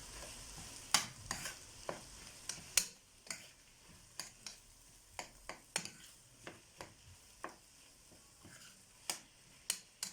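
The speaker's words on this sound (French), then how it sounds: "Ma viande hachée crue que je mélange avec mes légumes." Raw minced meat stirred and mashed with vegetables in a pan, a quiet low sizzle punctuated by regular sharp clicks and taps of a utensil against the pan, no one talking.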